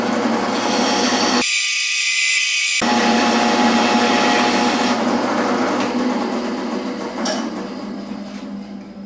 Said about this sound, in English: I'm back at the bandsaw. We could also use the chop saw for this, but I'm going to go ahead and cut those lines